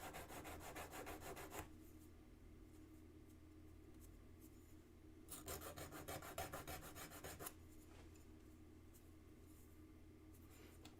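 A needle file rasps across metal in two bursts of quick back-and-forth strokes, close and crisp, with quieter pauses between them and no talking.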